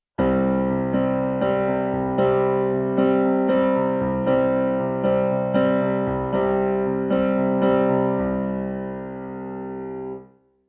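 Piano chords struck in a rhythmic, strum-like pattern at full tempo, steady repeated attacks ringing into one another, then a final sustained chord that cuts off abruptly; played alone without talk.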